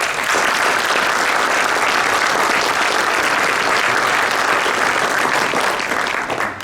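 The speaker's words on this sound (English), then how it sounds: "Let's give them a round of applause." An audience at a mosque open day event gives a sustained round of applause, dense, loud and even from start to finish with no talking over it.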